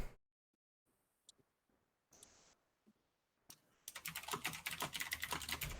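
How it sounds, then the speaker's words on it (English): Typing on a computer keyboard starts with a few scattered, faint key clicks, then turns into a rapid, close run of keystrokes toward the end, with no one talking. "Panda's typing"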